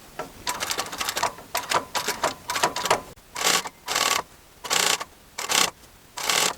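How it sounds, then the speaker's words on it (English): Sewing machine stitching velvet upholstery fabric, fast rattling bursts of needle action separated by short pauses, close and fairly loud, heard alone. "just going to continue stitching round."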